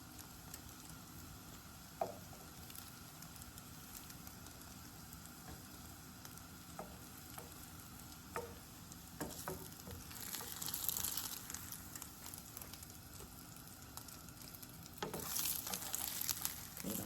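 French toast fries in a pan with a steady, close sizzle, broken by occasional faint taps and clicks and a brief louder crackling flare near the end.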